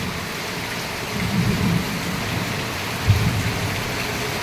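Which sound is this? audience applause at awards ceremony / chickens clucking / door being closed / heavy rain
heavy rain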